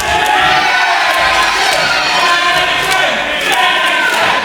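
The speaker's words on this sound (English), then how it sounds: "This crowd in Dagenham are calling for him to finish it now." A wrestling crowd in Dagenham cheers and shouts loudly and continuously, with whoops and chants rising over a dense roar of voices close around.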